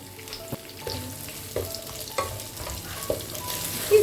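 Squarely cut big onions drop into a pan with chilies and garlic and fry, a steady sizzle broken by regular scraping stirs and the knock of a spatula against the pan.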